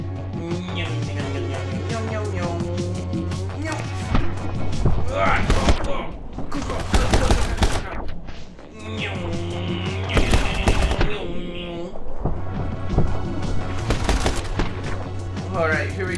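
Video game gunfire in My Friend Pedro, repeated loud shots and bursts over a thumping game soundtrack, arriving in clustered volleys with brief gaps between them.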